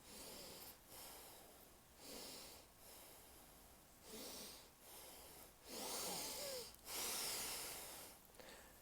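Deep, slow breathing during a relaxation breathing exercise, with about six drawn-out hissing inhales and exhales spaced a second or so apart, close and alone without talk.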